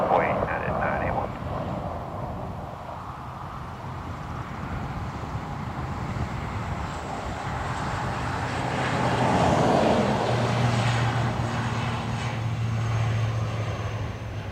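A United Boeing Dreamliner jet at Dublin Airport produces a broad engine roar and rumble that swells midway and settles into a low steady drone, with faint traffic-like background and radio chatter beneath.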